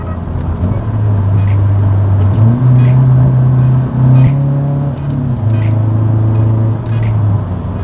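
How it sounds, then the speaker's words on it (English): A car engine revs up and settles in a sustained, near rev match for a heel-toe downshift, its low droning tone rising and falling steadily without talk. "a heel toe is identical to a normal rev match like this"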